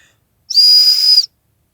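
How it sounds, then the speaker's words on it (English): A small survival whistle from a Camillus adventure pack blown once, a loud, shrill, steady high tone held for under a second, close by, with silence before and after. "That's actually not a bad whistle."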